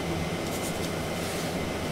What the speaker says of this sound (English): All right, the exhaust is on, so it's going to be a little bit of background noise.